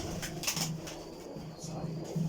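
Pigeons coo softly in a loft, giving low repeated throaty calls that blend with faint background noise.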